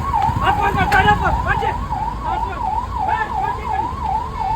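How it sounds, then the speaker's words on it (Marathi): An ambulance siren wails in a steady up-and-down pattern through heavy traffic on Kolhapur road, loud and close, with engine rumble beneath it. "त्यामुळे अँब्युलन्सला जागा करालती"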